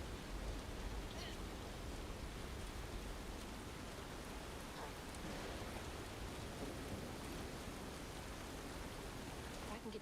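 Thunderstorm in the game South of Midnight: steady dense rain hiss with low thunder rumble underneath, continuous and fairly even over the whole stretch.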